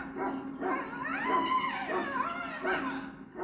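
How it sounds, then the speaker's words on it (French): A dog whimpers and whines in the Dragon Age Origins video game, a few rising and falling plaintive cries over about three seconds, fairly close and clear. "Nous devrions vraiment nous occuper de votre chien avant qu'il ne commette l'irréparable"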